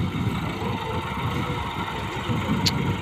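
A Badshah 260 tractor pulling a loaded trolley gives off a continuous low, chugging engine rumble, steady and fairly close, with a brief sharp high-pitched sound near the end.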